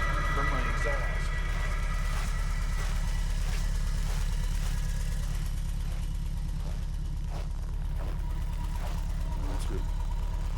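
A car idles after a cold start with a block heater at minus 20 in Fairbanks, Alaska, a steady low engine rumble running throughout, with scattered faint noises over it.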